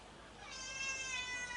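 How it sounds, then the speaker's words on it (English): A cat gives a single drawn-out, rising meow, fairly close and clear against quiet room tone. "Oh, cat."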